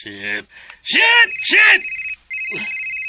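A cellphone rings with a repeating electronic ringtone. Voices speak over and between the tones.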